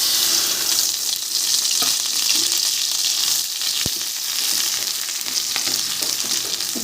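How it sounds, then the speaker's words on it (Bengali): A mashed bharta of pointed gourd peel and prawn heads fries with black cumin in mustard oil over a high flame, sizzling steadily with a sharp scrape of stirring now and then, and no talking. "এবার শুধু ভাজতে থাকবো, আর সমানে নেড়ে যেতে হবে"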